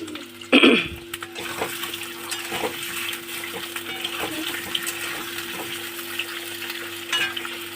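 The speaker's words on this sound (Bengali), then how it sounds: "আলুগুলো আমি লাল লাল করে ভেজে নেব" Potatoes fry in very hot mustard oil with a loud burst of spitting as they hit the pan, settling into a steady crackling sizzle with stirring clatter close by.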